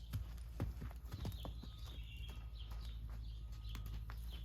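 Horse hooves clip-clop in a quick, irregular series of close thuds over a steady low rumble, with faint birdsong in the background.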